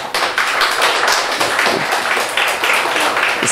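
A church congregation gathered at a Lunar New Year revival service breaks into dense, sustained applause, many hands clapping together loudly and steadily throughout without a break.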